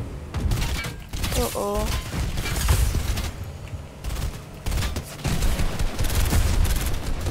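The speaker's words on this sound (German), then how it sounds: "Achtung, der Kanonenboot schießt auf mich." Gunboat cannon fire aimed at the player in Fortnite: a dense run of booming shots and thuds that keeps coming across the clip, mixed under excited voices talking throughout.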